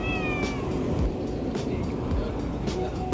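A cat meows several times close by, short plaintive calls over a steady background of passing traffic.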